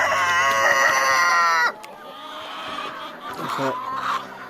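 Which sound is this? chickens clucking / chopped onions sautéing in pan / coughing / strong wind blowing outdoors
chickens clucking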